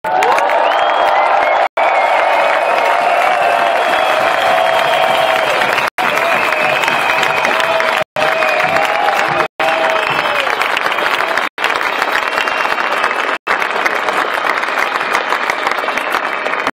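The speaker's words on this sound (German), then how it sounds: "Nochmal einen donnernden Applaus für alle fünf" A loud, thunderous round of audience applause for five speakers at an event, dense clapping with cheers and whoops rising from the crowd, sustained for a long stretch with a few abrupt cuts.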